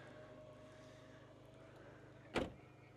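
The trunk lid of a 2018 Skoda Octavia A7 1.6 TDI shuts with a single short, muffled thud near the end, after a quiet stretch of low background hum.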